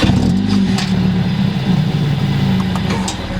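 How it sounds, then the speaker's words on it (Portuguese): A Mercedes-AMG CLA 45 engine starts and settles into a loud, steady low rumble close by, with no talking over it. "antes eu vou dar a partida normalmente"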